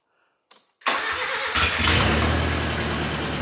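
A Datsun 910 Bluebird wagon starts with the key: after a brief click and a short cranking burst, the engine fires suddenly and settles into a loud, rough, steady idle close by.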